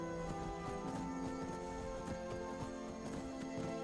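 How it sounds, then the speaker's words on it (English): Horse hooves clip-clopping in Skyrim near the town of Dragonbridge, a steady rhythmic clatter laid over continuous game music and ambience. "You're a pretty looking horse."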